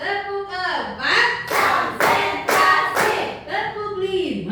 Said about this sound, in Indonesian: kita tepuk dulu ya